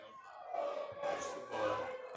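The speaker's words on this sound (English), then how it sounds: "Crowd is definitely into it" Crowd noise at a high school football game, a steady roar of fans that swells twice, rising in waves during a tense fourth-quarter third-down play.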